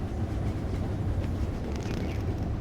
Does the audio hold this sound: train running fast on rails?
yes